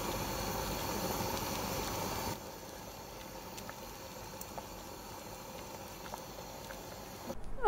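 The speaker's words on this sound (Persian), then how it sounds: "یه مقدار بجوشه، 2-3 دقیقه تا 5 دقیقه دیگه خاموشش میکنم" Ash doogh, a Persian yogurt soup seasoned with black pepper, simmers in a pot on the stove with a steady close bubbling hiss that drops to a gentler simmer partway through.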